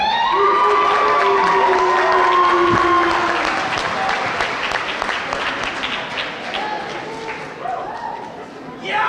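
A crowd applauds and cheers for a third-place student poster winner at a school awards event, loud sustained clapping with whistles and shouts that gradually thins out toward the end.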